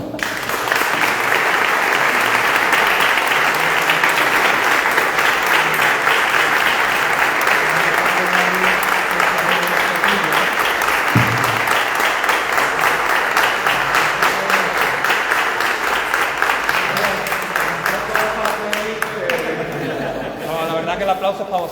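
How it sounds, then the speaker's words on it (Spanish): A crowd at a bonsai demonstration applauds Antonio with sustained, loud, even clapping for about twenty seconds, thinning slightly near the end as a few chuckles come through. "Pues yo creo que Antonio merece un aplauso, ¿no?"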